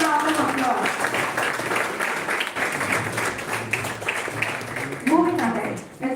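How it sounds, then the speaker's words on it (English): Audience applause during an oratory contest inauguration ceremony, a steady wash of clapping from a seated crowd with voices and chatter audible over it. "A big round of applause."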